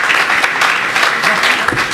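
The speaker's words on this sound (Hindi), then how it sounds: "लेकिन मैं तालियां अब चाहता था" Audience applause at a Hindi satirical poetry recital, steady dense clapping from a crowd throughout, fairly loud with no pauses.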